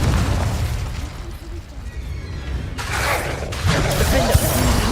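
A Confringo blasting spell goes off in the Hogwarts Legacy video game, a loud, booming burst that swells over a dense, rumbling game soundscape, with a shouted voice over it.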